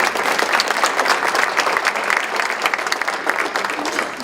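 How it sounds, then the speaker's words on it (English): Audience applause rises at a panel discussion on English learners, greeting a panelist's introduction with continuous, full clapping that holds at a steady level throughout. "let's give her a round of applause"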